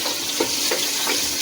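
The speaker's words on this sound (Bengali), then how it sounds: "ভাজা হোক" Garlic frying in a pan gives a steady, dense sizzle close by, with soft stirring scrapes at a few points and no voices.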